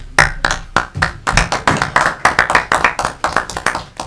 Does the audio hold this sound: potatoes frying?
no